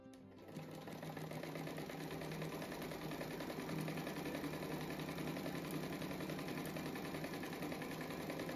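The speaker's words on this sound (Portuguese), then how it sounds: "termina de costurar esse pedaço aqui" A sewing machine stitches a patchwork rug, running with a steady, fast mechanical whir and hum that starts after a brief moment and continues unbroken at close range.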